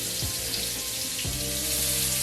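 Shrimp hits hot bacon fat in a pot, giving a steady broad hiss of frying that swells slightly as the clip goes on, heard close and alone.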